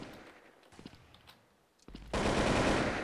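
AK rifle fire in the shooter game Blood Strike: a few scattered shots and clicks, then a loud, continuous automatic burst close up that fills the last second.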